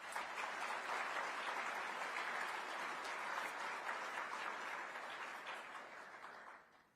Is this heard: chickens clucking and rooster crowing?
no